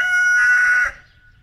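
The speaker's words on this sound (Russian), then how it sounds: "петух кричит на дождь" A rooster crows once outdoors in a garden, a loud, close, drawn-out call lasting under a second that cuts off into quiet.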